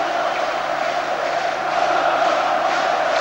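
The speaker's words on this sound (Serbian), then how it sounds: "A to je skandiranje predsjedniku Crvene zvezde Draganu Džajiću i generalnom direktoru Vladimiru Cvetkoviću" Football stadium crowd at a Red Star match chants for the club president, a sustained, dense wall of voices at steady loudness throughout, with no single voice standing out.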